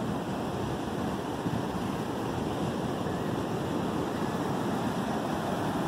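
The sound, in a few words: ocean waves and surf on a beach at Padre Island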